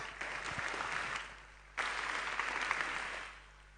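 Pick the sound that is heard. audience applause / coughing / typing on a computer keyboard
audience applause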